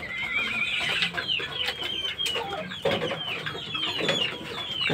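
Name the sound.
chicken clucking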